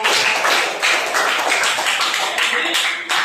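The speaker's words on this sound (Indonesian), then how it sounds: "Tepuk tangan untuk kita semua" Audience clapping after a classroom teaching session, a steady patter of many hands for about three seconds, fairly loud and close throughout.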